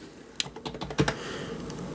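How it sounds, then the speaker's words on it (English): Fingers type a short burst on an MSI gaming keyboard, quiet, soft key clicks in an uneven rhythm with one firmer cluster of presses midway, close and alone. "let's get into the type test, and then we'll see how good this keyboard is, because it sounds very, very silent"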